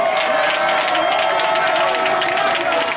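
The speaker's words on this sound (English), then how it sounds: "would you just cheer for the black women who are in our midst today?" A protest rally crowd cheers and shouts in a sustained, loud, steady roar, with a voice carrying over the noise.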